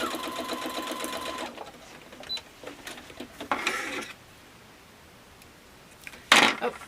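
A sewing machine runs in short bursts while stitching mini quilt pieces, a steady whirring hum at first, then brief clicks and mechanical rattles with quiet gaps between them, close and fairly soft.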